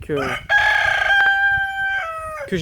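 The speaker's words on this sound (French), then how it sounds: "ici on a le jeune coq que j'ai gardé pour chez les pondeuses" A young rooster kept with laying hens crows loudly and nearby, giving one long, drawn-out call with short clucks before and after.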